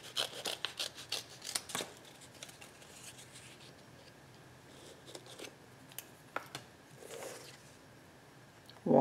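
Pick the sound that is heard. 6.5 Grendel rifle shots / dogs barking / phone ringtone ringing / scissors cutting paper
scissors cutting paper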